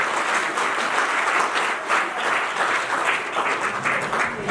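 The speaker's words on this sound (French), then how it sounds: "Vos applaudissements" Wedding guests applauding in a hall after the couple is toasted, a continuous loud burst of many hands clapping with faint crowd murmur underneath.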